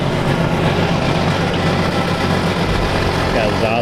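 John Deere 8960 tractor with a Cummins diesel engine idling on a cold start with an exhaust leak, a loud, continuous low rumble that holds steady throughout, close by.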